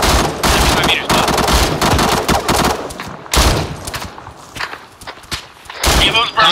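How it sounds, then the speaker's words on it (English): Rapid bursts of automatic gunfire crack close by in an Arma 3 firefight, aimed at the player and coming in clustered volleys with short gaps, while someone talks over parts of it. "Leave me alone, stop shooting at me."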